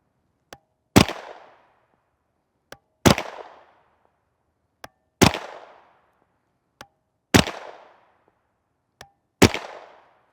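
Five sharp, loud gunshots from a CZ Scorpion Evo 3 S1 SBR with a 7.72-inch barrel, firing 9x19mm 115gr TMJ ammunition, spaced about two seconds apart, each with a brief echoing decay and preceded by a faint click.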